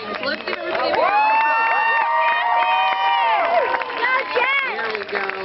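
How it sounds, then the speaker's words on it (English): A live audience at a ranch show cheers, hoots and hollers loudly and continuously, with shouting voices and some clapping mixed into a dense crowd roar. "I think we need to do some cheering and some hooting and hollering."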